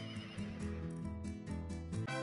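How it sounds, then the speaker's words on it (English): A wooden rocking horse in a puzzle video game gives out a whinnying neigh, a short rising-and-falling horse call heard close and alone, quite quiet. "horse that apparently neighs."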